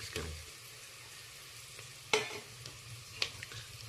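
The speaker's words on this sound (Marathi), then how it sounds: "कांदा आरत कच्चा भाजायचा फुल ब्राऊन नाही करायचा" Onion and crushed masala frying in a pan for crab curry, a steady soft sizzle with occasional sharp scrapes of stirring, close and fairly quiet, no voices.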